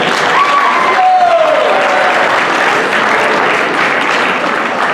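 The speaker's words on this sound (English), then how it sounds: "another round of applause" A school assembly audience at Winslow High School bursts into loud, sustained applause, a thick wash of many clapping hands, with a short whistle-like tone sliding over it near the start.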